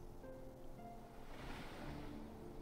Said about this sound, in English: the waves hitting the dock.